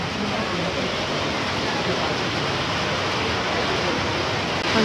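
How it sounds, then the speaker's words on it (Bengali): Rain falling outside a small cafe, a steady even hiss of downpour heard from indoors, constant and moderately loud for several seconds with no clear talk. "বৃষ্টি শুরু হয়ে গেছে"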